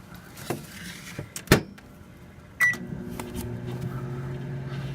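Microwave oven with an eraser and a battery inside. A few clunks and a button beep come first, then the steady low hum of the running oven carries on alone at close range.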